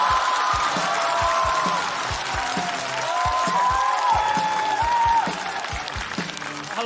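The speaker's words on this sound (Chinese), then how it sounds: "我们掌声有请南" Audience applause at a stand-up comedy show welcomes the comedian Nangua to the stage: dense, steady clapping from a large crowd that stays loud for the whole stretch.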